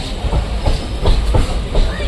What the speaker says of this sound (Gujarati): જો પાટો બદલી રહી છે ટ્રેન